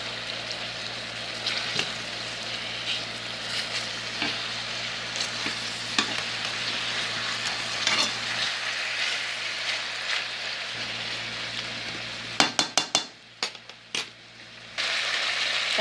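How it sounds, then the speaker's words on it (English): Steady sizzling of steak frying in a pan, close and continuous, with occasional utensil clinks and a few sharp scraping knocks near the end. "now the steak is still cooking and getting really soft here"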